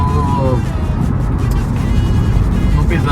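A VW Golf GTI MK4 on 18-inch wheels with the throttle held at about 1,750 RPM, giving a steady low engine drone with a dense rumble throughout, heard from close by.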